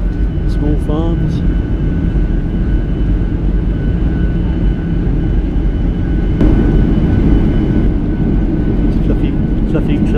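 Steady cabin and engine roar of a small airplane in flight during a banking turn over farmland, a loud continuous drone with a slight rise in intensity late on.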